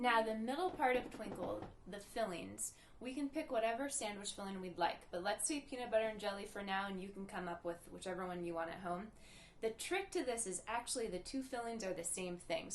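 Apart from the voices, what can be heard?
None of the usual background noises is heard.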